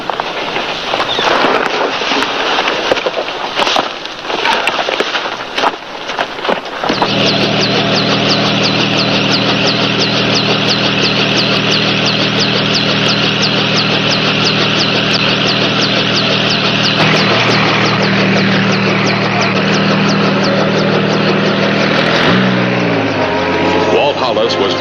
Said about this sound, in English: Do you think you two could make it to the copter? Pilot will take you back to the ranger station